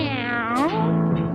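A loud, close cat meow with a drawn-out, wavering pitch that rises, then trails off into a lower, sustained tone. It may be a voice imitating a cat in a comedy bit.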